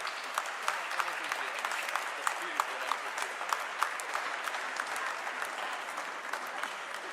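Steady applause from a church congregation at a Sunday diocesan gathering, dense continuous clapping with a few sharper claps standing out, even in loudness throughout.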